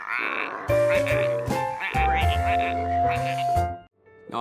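Cartoon frogs croak in a playful, musical way, with tonal croaks and chirps layered over bright background music, close and fairly loud.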